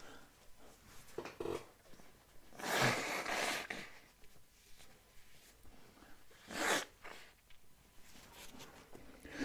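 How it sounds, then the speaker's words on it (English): Two soft bursts of someone blowing their nose, a few seconds apart, faint and close, amid quiet rustling. "I'm just going to blow my nose."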